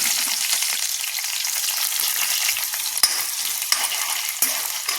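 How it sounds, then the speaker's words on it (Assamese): Onions and five-spice seeds fry in hot oil in a home kitchen, giving a loud, steady sizzle that runs throughout, with a few sharp crackles and spatters near the end. "ইয়া তেল গৰম হৈ গৈছে ইয়াতে মই 5 ফোৰণ দি দিছো তেল দি দিছো আৰু ইয়া পিয়াজ দি দিছো"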